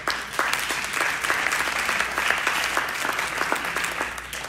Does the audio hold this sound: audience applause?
yes